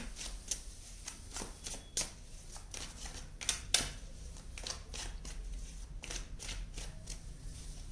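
Tarot cards are shuffled and drawn by hand, a quiet, close run of crisp papery riffles and snaps repeating at an uneven rhythm, with no talk.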